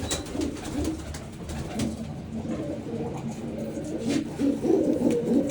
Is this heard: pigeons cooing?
yes